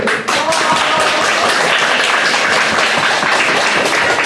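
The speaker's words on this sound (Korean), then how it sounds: "오늘 예배를 섬겨주신 6학년 친구들과 선생님께 박수!" Children at an elementary Sunday-school worship service clap loudly and energetically for the sixth graders and their teacher. Thick, continuous clapping fills the space close by.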